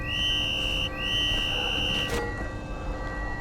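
A long, steady high whistle in the video game We Happy Few, held for about two seconds with a short break, ringing over a constant low background hum, then stopping abruptly.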